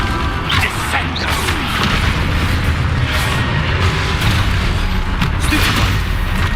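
Descendo spell effect in the video game Hogwarts Legacy, heard amid continuous loud combat: heavy booms, crashes and magical impacts layered densely with no pauses.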